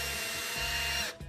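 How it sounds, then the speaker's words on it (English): A small power drill bores pilot holes into plywood, a steady whirring motor whine with a slight change in pitch as the bit cuts, close and alone, ending abruptly. "small drill to get these pilot holes started in the ply"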